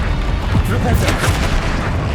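A Flipendo spell blast in Hogwarts Legacy, a dense booming rumble that stays heavy and loud, with several thuds of impact over continuous game noise.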